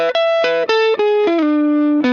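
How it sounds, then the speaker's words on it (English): Electric guitar through a Dyna Squash compressor plugin plays a short run of single notes, each one clean and evenly sustained with a squeezed, smooth attack, ending on a held low note. "Now let's bring in the Dyna Squash compressor."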